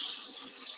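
Cold water pours from a container onto rice, a brief close hissing gush with no voices.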